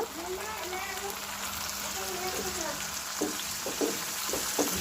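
Onions sizzle and crackle steadily in hot oil, a close, even hiss with a few sharper pops toward the end while someone speaks over the frying.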